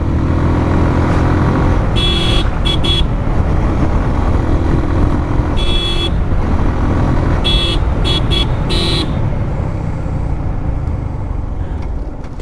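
A motorcycle is ridden on a road near a university in Dinajpur, engine and wind noise loud and constant, with several bursts of vehicle horns honking at intervals.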